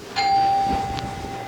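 A doorbell at a house rings with a clear ding tone that sustains and fades, followed by a second softer chime, loud and close over steady room background.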